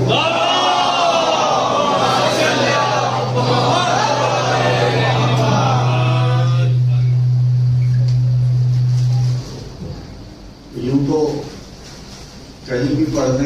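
Voices shout loudly together at a Jashn-e-Ghadeer celebration gathering in Vijayawada for several seconds, then a pause, followed by shorter bursts of crowd shouting; a single voice also calls out.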